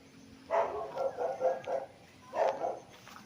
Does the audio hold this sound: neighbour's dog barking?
yes